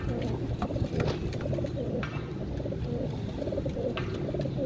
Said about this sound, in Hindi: सारे रिंग नेट कबूतर हैं सबके सब